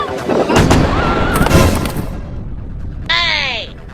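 A firecracker bomb goes off with a loud close blast amid excited voices, followed by a whistling, fizzing tail.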